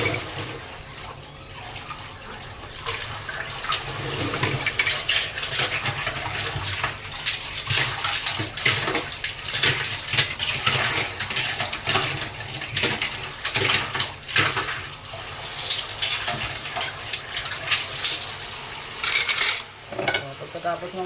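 Ladles and spoons being washed under running tap water, with continuous splashing and frequent metallic clinks and scrapes of cutlery against each other and the sink.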